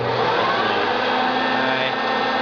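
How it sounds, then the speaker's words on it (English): A Hoover Concept One vacuum cleaner runs on its high speed setting, giving a loud, steady motor whine with a broad airy rush that holds continuously throughout. "For the last couple of seconds before I shut the vacuum off, I did put it into the high speed."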